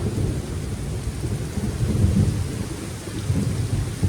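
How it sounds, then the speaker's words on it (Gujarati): Steady heavy monsoon rain pours down on a village with low rumbling thunder swelling through it, no voices. "અત્યારે પણ આમ તો કેવો વરસાદ ચાલુ છે વીજળી થાય છે કડાકા ભડાકા થાય છે"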